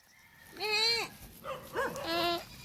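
Goats bleating on a provincial farm, a few close wavering bleats in quick succession, with one long cry followed by shorter calls and a final drawn-out bleat.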